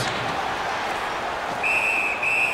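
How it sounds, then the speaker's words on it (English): In the NHL 18 hockey video game, a referee's whistle blows twice in quick succession, a steady shrill tone over loud, continuous arena crowd noise. "A whistle and a rest."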